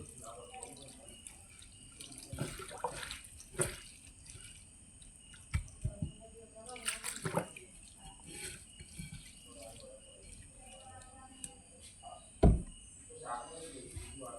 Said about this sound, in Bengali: হালকা একটু পানি দিয়ে দেবো